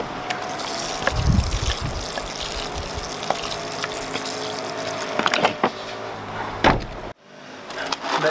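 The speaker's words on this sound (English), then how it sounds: "And then we'll water those in." Freshly sown onion seeds being watered in on a UK allotment, a steady close trickle and patter of water with a few louder splashes, then a brief pause before the flow resumes.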